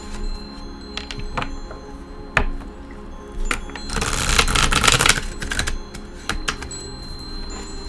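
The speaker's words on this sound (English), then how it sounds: "I'm going to start shuffling." Playing cards are shuffled close up: scattered crisp taps and clicks, then a dense rippling riffle burst lasting about a second, followed by more light handling taps.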